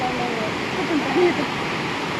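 Bendewadi waterfall near Lonavala roars as a steady, loud wash of falling water in monsoon rain, constant from start to finish with only slight swells.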